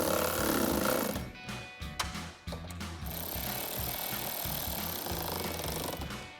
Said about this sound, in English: we'll take our 10 millimeter socket and tighten down the first 2